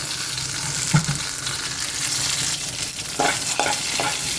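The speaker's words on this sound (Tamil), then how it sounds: "நல்லா தாளிப்பு வந்து இந்த மாதிரி சவந்து வரணும்" Spices for tempering fry and crackle in hot oil in a pan for an okra sambar while being stirred. The sizzle stays steady and close, with a few light scrapes and taps of the spoon and no speech.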